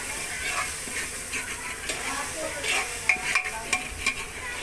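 Dal or rice being stirred in a pan on the stove, with scraping strokes and soft clinks over a steady sizzling hiss, close and moderately loud, with faint background voice.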